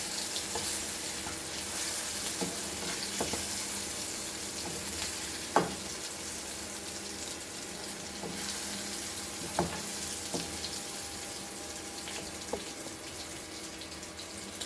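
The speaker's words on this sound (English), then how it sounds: "I've taken very less oil to fry this." Mackerel fish roe fries in a little oil with a steady, even sizzle in a Goan kitchen, broken by a few sharp utensil clicks and taps against the pan.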